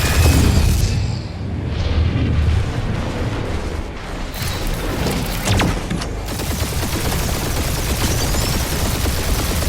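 Sustained heavy gunfire barrage in the video game Marvel's Guardians of the Galaxy, loud and dense, with booming blasts and explosions layered over continuous firing for the whole stretch.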